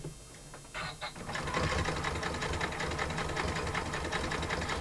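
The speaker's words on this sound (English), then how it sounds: "Just zigzag stitch over just that bit." Domestic sewing machine running a zigzag stitch to repair a hole in embroidery on a tea towel or trivet, starting with a few hesitant bursts and then settling into a steady, rapid mechanical chatter close by.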